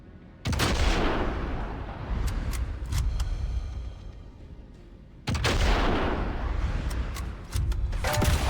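Loud sniper shots in a first-person video game, two sharp heavy cracks several seconds apart, each followed by a long booming echo and scattered smaller shots.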